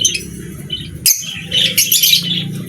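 Pet budgerigars in a cage chirp and tweet continuously, a busy layered chatter close by with sharper squawks rising over a steady low rustling background.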